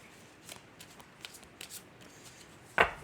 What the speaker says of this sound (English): Cards have been very well shuffled. I'll just give them a little bit more and we can start your reading.